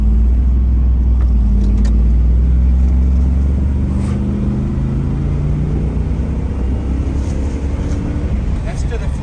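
A 1991 third-generation Camaro pulling hard at full throttle, its loud, close engine roar climbing steadily in pitch as it accelerates, heard from inside the car.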